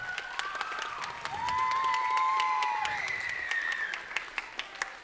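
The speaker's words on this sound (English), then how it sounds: "Round of applause for her." Middle-school concert audience claps for 8th-grade band president Fernanda Hernandez, steady applause with scattered cheers and whoops rising over it, fairly close and lively throughout.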